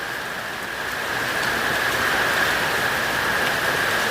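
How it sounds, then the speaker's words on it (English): Heavy hurricane rain and wind recorded with microphone noise reduction off, a loud dense roar that swells slightly after the first second and stays constant, with no voices over it. "You're gonna hear the wind and the rain."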